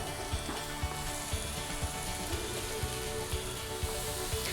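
Sliced mushrooms and garlic sizzle steadily in hot oil in a pan, a dense continuous frying hiss with soft regular ticks of stirring, and no voices.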